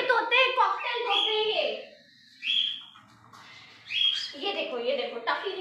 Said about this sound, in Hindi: कबूतर नहीं आपके तोते कॉकटेल तोते।